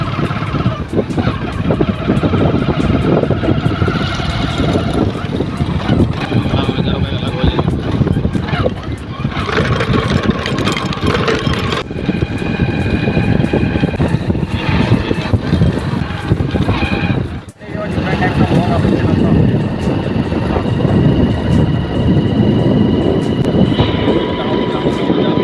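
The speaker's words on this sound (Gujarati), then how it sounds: "આપણે નીકળી ગયા આપણી બાઇકથી." A motorcycle rides along a smooth village road near a canal on the way to Waghodia, with a continuous loud engine drone and wind rush, a brief dip near the end, and a voice talking over it.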